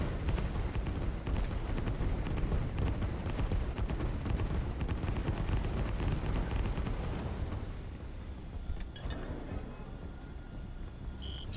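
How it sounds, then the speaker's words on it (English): Artillery fire rumbles through a Line War real-time strategy battle, a dense, continuous barrage of booms and crackle that stays loud for most of the stretch before thinning out near the end. "There's a lot of artillery"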